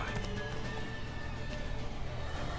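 A horse gallops in The Witcher 3, its rapid hoofbeats drumming steadily beneath sustained in-game music tones for a few seconds.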